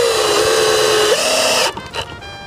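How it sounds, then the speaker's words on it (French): A power drill drives a screw into the wooden side of an insect hotel, its motor holding a loud, steady whine whose pitch rises slightly, then stopping abruptly and leaving a few faint knocks and rattles. "Et du coup maintenant on va visser aussi ce côté."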